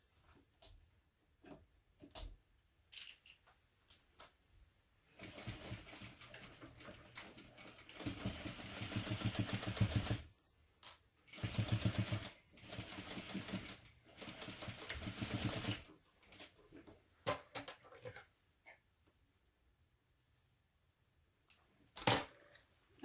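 A domestic sewing machine runs a backpack lining seam in several bursts of steady stitching, with short pauses and handling clicks between runs, close and fairly loud with no talk.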